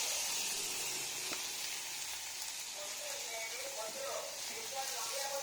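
Dry shrimp fry in a pan with a soft, steady sizzling hiss that runs unbroken at low volume while someone talks over it.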